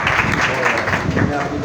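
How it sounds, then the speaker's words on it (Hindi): A congregation at a night prayer gathering claps loudly together, a short, dense burst of applause, with a voice speaking through it. "जोरदार तालियां"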